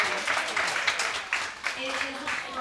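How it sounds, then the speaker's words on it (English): Audience applause in a cruise ship venue, a steady dense patter of many hands clapping with some voices mixed in, fairly close and continuous throughout. "can we please, first of all, give a round of applause to yourself."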